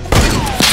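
A heavy sniper rifle in Fortnite Battle Royale fires a loud, booming shot that rings out briefly, with a second blast following close behind.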